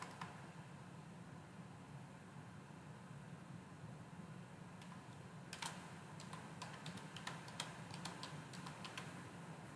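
Quiet, scattered keystrokes tap on a computer keyboard as an email address is typed. They come in an irregular cluster over a soft background hiss, with no speech.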